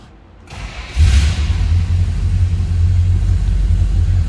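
A 1969 Dodge Coronet R/T two-door hardtop with a 440 V8 cold-starts: a brief crank, then the engine catches with a loud burst and settles into a steady, deep, rumbling idle close by.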